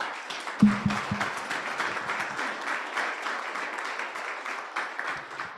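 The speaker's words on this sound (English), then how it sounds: "Please, a round of applause for Mike." Audience applause after a talk on Alaska food insecurity, a steady wash of many clapping hands at moderate level, holding evenly for several seconds with no voices over it.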